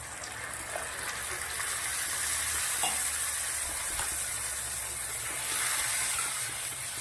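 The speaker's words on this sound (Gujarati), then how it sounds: "હવે મસાલાને સરસ ઉકળી જવા દેવાનું છે" A spiced masala of Kashmiri chilli, turmeric, ground coriander-cumin, salt and a little water simmers in a pan for Rajasthani cucumber curry, giving a steady soft hiss and sizzle with faint stirring scrapes.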